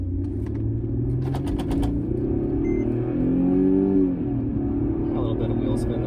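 A 2005 Mercedes E320 wagon pulls away hard from a standstill, its engine note climbing and droning steadily through the cabin as speed builds, while a voice talks faintly over it.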